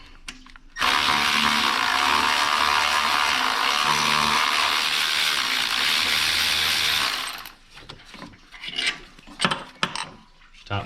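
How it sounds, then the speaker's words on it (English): A Milwaukee power tool whirs loudly and steadily for several seconds while backing out a water pump bolt on a 2013 Toyota RAV4, then stops, followed by irregular metallic clunks and knocks of tools and parts. "I'm using the Milwaukee Power to get it out."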